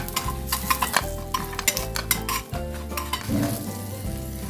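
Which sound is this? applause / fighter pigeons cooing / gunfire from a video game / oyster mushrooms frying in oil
oyster mushrooms frying in oil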